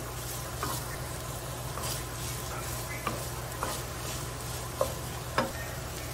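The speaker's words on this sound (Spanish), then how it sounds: "Vamos a revolver todo muy bien." Ground turkey stirred in a sizzling pan, a low continuous fry with a utensil scraping and clicking against the pan several times, close and fairly quiet.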